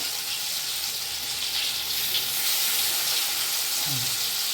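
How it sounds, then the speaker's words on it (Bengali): Young jackfruit pieces and spices frying in hot oil, a steady close hiss and sizzle running throughout with no break and no talk. "আমি সুন্দর একটা একটা করে আমি এসবগুলো দিয়ে সুন্দর ভেজে নেব"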